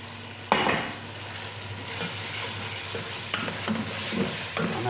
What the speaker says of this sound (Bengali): আর এখানে দিলাম মাছ ফ্রাই করে, রুই মাছ দিলাম ফ্রাই করে